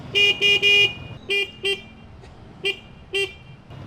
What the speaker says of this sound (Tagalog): Eh yung busina kaya?